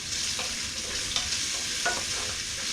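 Eggs being whisked with a small whisk while bacon sizzles nearby for pasta carbonara: steady frying hiss with light rapid stirring and clicking strokes, close and continuous, no talking.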